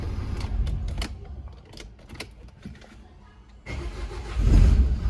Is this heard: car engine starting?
yes